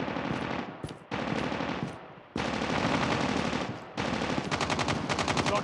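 Automatic weapon fire in the mobile shooter game COD Mobile rattles in loud, rapid bursts, with short gaps between strings of shots and a fast, evenly spaced volley near the end.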